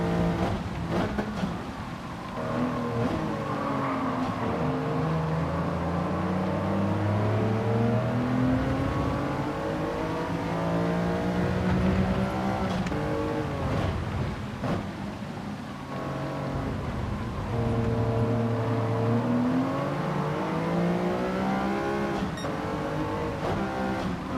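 Race car engines roar and rev continuously in the Gran Turismo 7 video game during a wet-weather lobby race, with rising and falling gear changes layered over steady engine drone and no talking.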